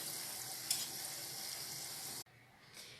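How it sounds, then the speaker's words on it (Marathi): Sabudana vada, sago pearl fritters, sizzle steadily in hot oil, a dense close hiss that runs unbroken and then drops away abruptly near the end, leaving quieter background. "असेच मी सर्व वडे भाजून घेणार आहे।"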